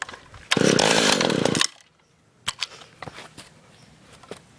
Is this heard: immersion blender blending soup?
no